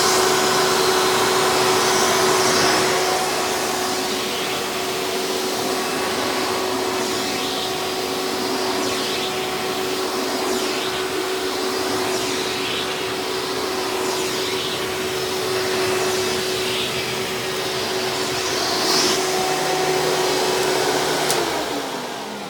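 A Hoover Legacy Elite Supreme Dirt Finder U5103-930 upright vacuum runs continuously with a loud, steady motor whine and airflow roar, close to the microphone, with slight shifts in pitch as it moves and no speech.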